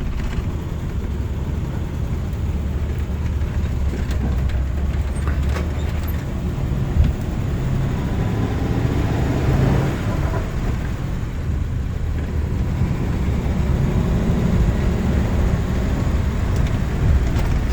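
A 1947 Ford Super Deluxe woody wagon with a three-on-the-tree manual shifter is driven steadily, its low engine drone and road rumble running continuously from start to finish with no talk over it.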